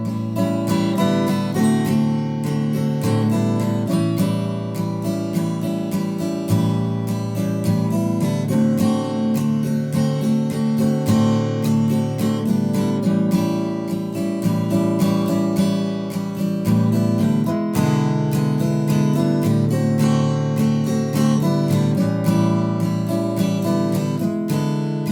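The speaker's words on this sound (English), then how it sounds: "but I'm using 7th chords the whole way through." Guitar strums a 12-bar blues pattern in A using 7th chords throughout, a steady rhythmic shuffle with chord changes at regular intervals, played alone at moderate, even volume.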